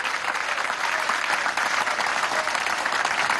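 A crowd at a televised presidential broadcast claps for a professor, a dense, even wash of applause throughout with no break.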